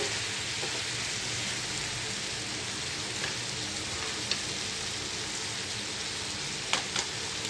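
Ingredients for a coconut chicken gravy sauté in a hot pan, giving a steady, dense sizzle that runs unbroken throughout with a few faint clicks near the end.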